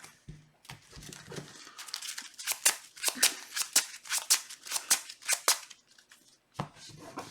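Playing cards being shuffled back into a deck during a tabletop card game: a series of quick, crisp riffling and snapping bursts, close and fairly quiet, in an uneven rhythm with short pauses.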